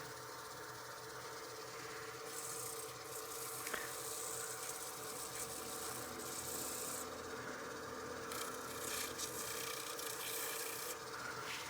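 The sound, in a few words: hand sanding wood with sandpaper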